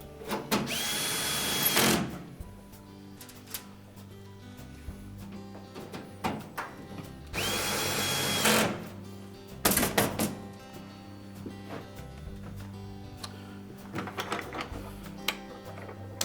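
A power driver whirs in two long bursts, each about two seconds, interspersed with brief clicks and handling clatter as screws secure the front panel of a Whirlpool washer during repair, close and clear with no talking.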